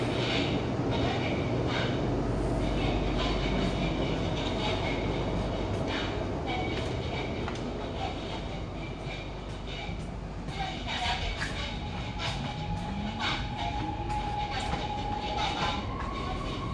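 A Shenzhen Metro Line 11 train on a trial run between Nanshan and Futian rumbles steadily through a tunnel, with constant loud running roar, rail clicks and a faint rising whine, heard from inside the car.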